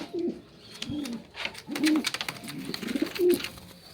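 Pigeons cooing close by in a loft, with repeated low throaty coos and soft rustling and flutters in between, fairly steady over the short stretch.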